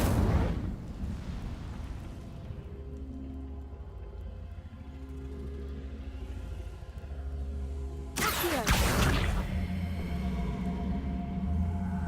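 Incendio fire spell cast in a Hogwarts video game, a loud fiery burst at the start that fades to a low rumble, then a second sharp blast and roaring flare near the end.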